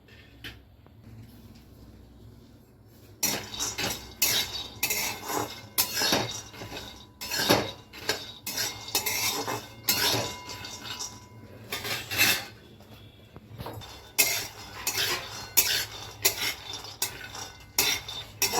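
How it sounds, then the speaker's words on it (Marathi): Peanuts dry-roasting in a pan for laddoos, stirred with a metal spoon that scrapes and clinks against the pan in irregular bursts after a quiet start. "मी 1 वाटी शेंगदाणे घेतले आणि त्याला चांगलं भाजून घ्यायचं."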